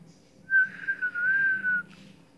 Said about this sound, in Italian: Che fischio scarso.